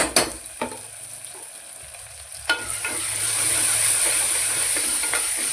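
Ginger garlic paste and tomato frying in a pan for mutton gravy: a steady loud sizzle and hiss that swells after a few stirring clacks, with no talking.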